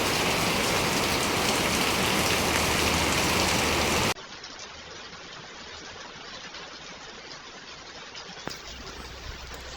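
Heavy typhoon rain pours in a loud, dense, continuous hiss, then drops abruptly to a quieter steady patter for the rest, with no talking.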